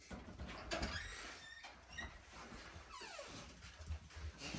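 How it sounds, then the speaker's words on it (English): A dog yelps and whines in short, high squeaky bursts amid rustling outdoor noise, fairly close, with no clear deep barks. "Somebody's barking."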